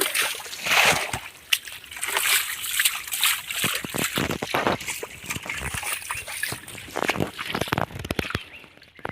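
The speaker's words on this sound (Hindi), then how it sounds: "उधर का पानी इधर फेंक दो।" Water being thrown by hand from one ditch into another during local fishing in Assam: repeated close splashes, sloshes and dribbles in an irregular rhythm, loud and continuous.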